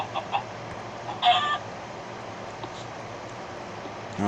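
A chicken in Minecraft: Pocket Edition gives a few short clucks, including one brief burst, heard faintly over a steady ambient hum with no one talking.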